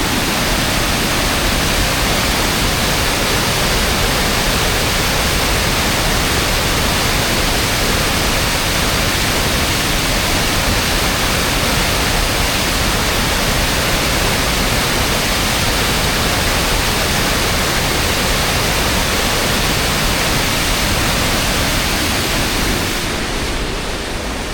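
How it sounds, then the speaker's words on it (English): Water from a three-tiered waterfall in Bellefonte roars steadily and close, a dense, unbroken rush of falling water that carries on evenly throughout without any voices. "Three-tiered waterfall there"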